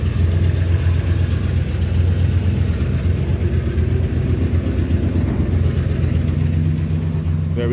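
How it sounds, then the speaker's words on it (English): Dual exhaust with two Flowmaster mufflers and an H-pipe idling on a car, a steady deep low rumble that holds close and loud throughout with no clear revs. "Very happy with the tone and sound of the mufflers."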